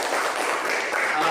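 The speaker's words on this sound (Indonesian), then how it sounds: "Tepuk tangan untuk semuanya." A class in a coding lesson bursts into a brief, dense patch of clapping, steady and fairly loud for just over a second.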